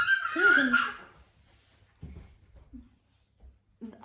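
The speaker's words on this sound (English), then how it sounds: "our puppy's getting chased" A puppy whimpers and yips while being chased at home, a clear high whine up front followed by a few faint, short yelps further off, with people talking.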